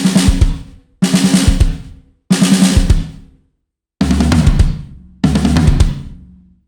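Drum set fill mixing hands and feet, five loud close bursts of rapid hits with kick drum and cymbal wash, separated by short pauses.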